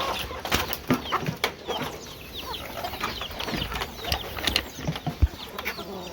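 Chickens cluck and murmur close by in an outdoor run on a damp day, a busy overlapping chatter of short calls with occasional louder squawks.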